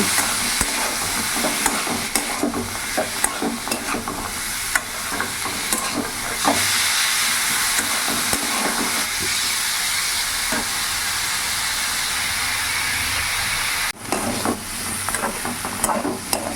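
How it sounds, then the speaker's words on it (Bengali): Loud, continuous sizzling of dal ingredients frying with turmeric in a pan, with repeated scraping and clattering of a utensil stirring throughout. "এবার ভালো করে আমি ভেজে নেব"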